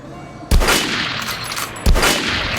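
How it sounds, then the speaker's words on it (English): Gunfire on a shooting range in the video game Metro Last Light: two loud, close shots about a second and a half apart, each a sharp blast followed by a long, rumbling, reverberant tail. "Head over to my range and try out those guns."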